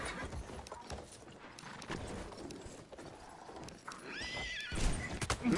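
Video game horse whinnies and clip-clopping hooves amid other game sounds, fairly faint at first, with a high neigh rising late in the clip before louder noise.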